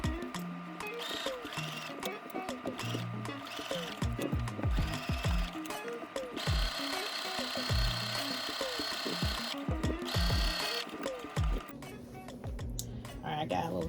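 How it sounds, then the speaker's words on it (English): A sewing machine stitches the front center seam and side seams of a muslin toile, running in steady bursts with short stops. Brief knocks and handling noises fall between the runs, all close and fairly quiet. "let me go ahead and get the stitching done on the front center seam and the sides"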